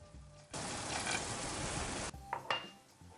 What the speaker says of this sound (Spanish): Seguimos removiendo.